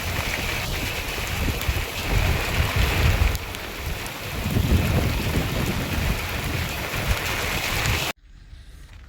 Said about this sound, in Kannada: ಫುಲ್ ಸ್ಟಾರ್ಟ್ ಆಗೋಯ್ತು ಮಳೆ.